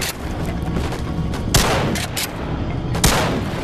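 Gunfire from a gun in the video game Bonelab, a dense noisy stretch of shooting with two sharper, louder shots standing out about a second and a half apart, close and without speech.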